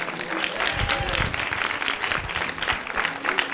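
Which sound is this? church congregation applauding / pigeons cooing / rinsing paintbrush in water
church congregation applauding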